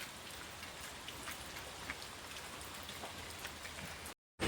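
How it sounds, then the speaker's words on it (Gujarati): Continuous, even rainfall hisses and patters throughout, then cuts off abruptly near the end. "એક ધારે વરસાદ ચાલુ છે કાલ રાતનો,"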